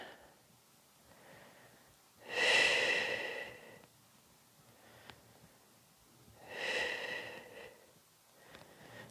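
Two deep, breathy exhalations sound close and loud during a seated yoga twist held by a runner, each a long audible whoosh several seconds apart, with quiet room air between and no talking.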